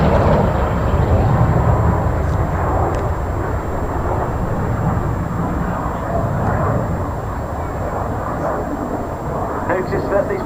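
Red Arrows jets roar steadily overhead during an airshow manoeuvre at Cosford, a broad continuous rumble that stays loud throughout while a voice talks over it.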